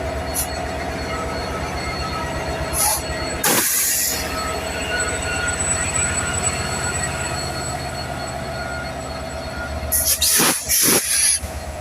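A passenger train pulling out of Rajbari Junction bound for Khulna, with a steady loud rumble of rolling wagons and wheels, sharp hissing and squealing bursts early on and again near the end.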